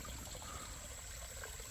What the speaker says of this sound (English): Someone built this waterfall